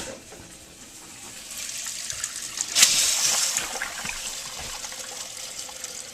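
A newly installed toilet's tank refills from the supply line in a mud room, a steady hissing, trickling rush of water that swells partway through and then settles into a continuous flow.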